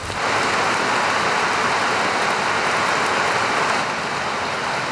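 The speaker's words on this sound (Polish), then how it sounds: "Pada. Już pada. Leje właściwie." Heavy rain pours steadily for several seconds as a dense, loud, even hiss with no pauses and no voices.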